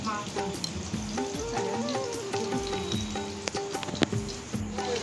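Onions sizzle in a pan as papaya and potato pieces are added, giving an even frying hiss with occasional stirring, under faint tonal background voices.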